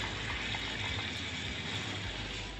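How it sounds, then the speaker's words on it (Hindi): Water poured into a cooking pot for mutton nihari, a continuous gushing splash heard close up, steady and moderately loud with no talking. "पहले मैं इसके अंदर 1 लीटर पानी डालूँगी।"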